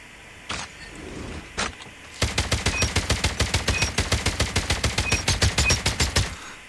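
Automatic rifle fire in Call of Duty Mobile, the Oden: two isolated loud shots, then a sustained rapid burst of about twenty evenly spaced rounds, loud and close, with no talk.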